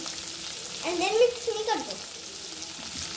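Vegetables for veg Hakka chowmein are stir-fried over high heat, with a continuous hissing sizzle throughout and a brief voice heard partway through.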